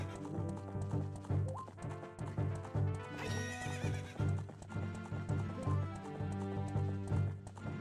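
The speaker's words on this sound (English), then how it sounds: "We will mount the horse." A horse whinnies amid steady clip-clop hoofbeats and dense game music in Ocarina of Time 3D, the gallop rhythm running throughout.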